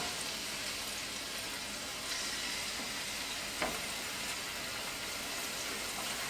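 Minced garlic sizzles steadily in a pan for a cauliflower Alfredo sauce, a soft continuous hiss of frying with faint crackles and one brief tap partway through, no voices.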